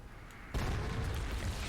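A sudden loud explosion erupts in the video game Shadow of War, a broad boom that cuts in abruptly and then rumbles on steadily with no talking.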